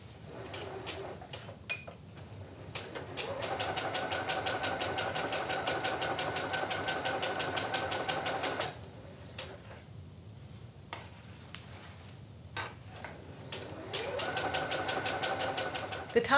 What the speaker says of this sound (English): the top of the bag gets sewn.